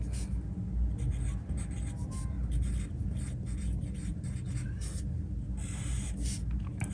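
Hand writing on paper with a pen, noting information for a technical drawing of cheese-headed screws; steady close scratching strokes with short pauses, continuing for several seconds without speech.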